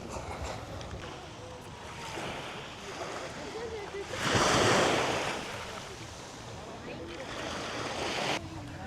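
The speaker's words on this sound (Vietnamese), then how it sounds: "Đây là cái bãi biển của cái khu khách sạn mình ở." Ocean waves on a hotel beach in Phu Quoc, steady surf washing ashore with one louder breaking swell midway, wind buffeting the microphone, and talk in the background.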